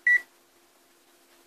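A multimeter buzzer gives one short, clear electronic beep near the start, then only a faint steady hum remains.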